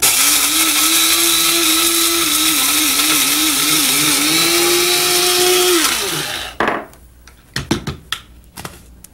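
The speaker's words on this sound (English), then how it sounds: "Let's grind them up." A grinder whirs loudly at close range, pulverising dry roasted chilies and spices with a wavering motor pitch for about six seconds, then winds down and stops, followed by a few clattering knocks.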